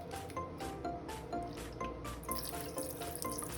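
Liquid seasoning pours and splashes into a vegan seafood boil pot with continuous wet gurgling and dripping, close and fairly quiet, without speech.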